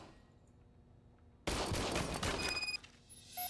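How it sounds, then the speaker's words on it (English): An old, manually serviced gun fires in RoboCop: Rogue City, a sudden loud blast that rings and decays over about a second after a quiet stretch, followed by a faint metallic ping. "I was issued this old gun and serviced it according to the manual. I will try it out."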